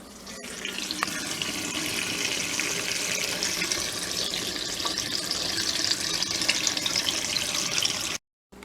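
A portable washer used in an RV drains soapy water in a steady rushing, splashing stream, loud and close, running continuously before cutting off abruptly near the end.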